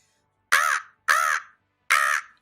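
A caster's voice imitates a crow's caw three times in an even rhythm, each call loud, close and harsh, separated by short pauses, during a live casting of Samsung Galaxy Battles Superverse grand finals.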